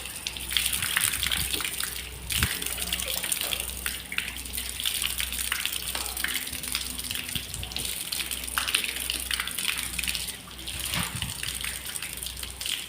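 Water gushes steadily from a tap into a basin or tub, a continuous close, bright rushing stream lasting throughout with small splashy variations and no talk.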